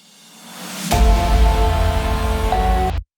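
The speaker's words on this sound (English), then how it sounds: "the whole section starts with this reverse cymbal" A reverse cymbal layered with a reverse snare swells up over about a second into layered impacts, which sustain as a loud low ringing boom with a held tonal drone before cutting off abruptly.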